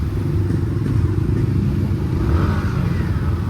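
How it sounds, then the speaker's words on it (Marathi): Congested road traffic of motorcycles and cars rumbles as a continuous, dense engine drone nearby, with a faint higher whine rising briefly midway and no clear voices. "हे बघा ट्रॉफिक"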